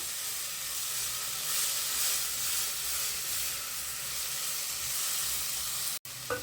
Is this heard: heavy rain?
no